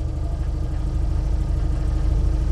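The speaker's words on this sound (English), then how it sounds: "those revs are too high for the clutch to disengage" An Invacar invalid carriage engine runs at a fast, high idle, a steady close throbbing drone with no talk over it.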